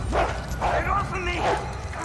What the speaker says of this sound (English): A dog! Not just any dog, that's Cerberus.